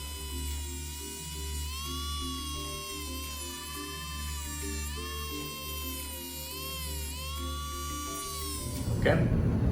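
A power tool cuts through a metal plate during a GPU upgrade on a 2011 iMac, whining loud and close with a pitch that wavers as the load changes, ending in a short burst of noise.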